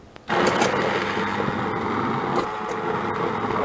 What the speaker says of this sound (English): Immersion Blender